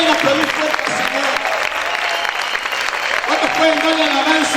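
A church congregation claps loudly and steadily, dense applause filling the room while a voice calls out over it now and then.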